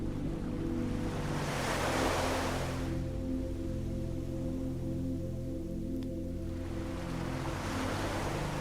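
Ocean waves roll in as a constant low roar of surf, with two broad swells of hiss as breakers wash ashore, steady and enveloping, with no voices.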